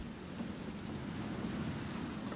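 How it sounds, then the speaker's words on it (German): Steady rain in Resident Evil 2 Remake, a continuous even hiss with a low rumbling bed, unbroken and fairly constant in level throughout, with no talk over it. "Oh, dieser Regen, ey."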